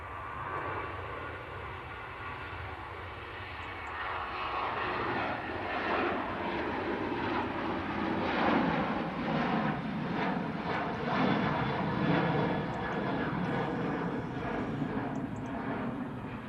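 An airliner at Manchester Airport roars down the runway on its takeoff roll, a steady distant jet rumble building slowly and holding, heard alone without talk.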